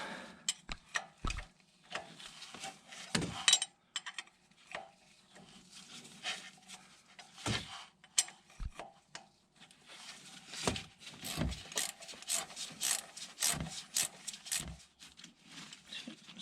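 A 12mm wrench working loose the oil drain plug on a Honda Pioneer 700 side-by-side, heard as a series of close, sharp metallic clicks and knocks in uneven bursts.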